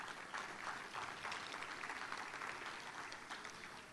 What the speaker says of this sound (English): let's give John Blake a big round of applause